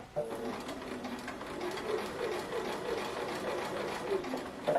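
A Bernina sewing machine running a fairly quiet, steady stitching whir with a few faint clicks, heard close by.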